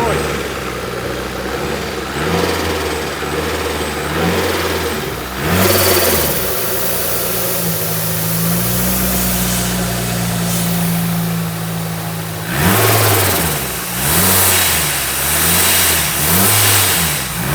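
A supercharged 500 hp Honda Civic FN2 engine, running with loose battery terminals and prone to misfire, revs repeatedly in loud rising and falling bursts, holds a steadier high rev, then revs again, close by.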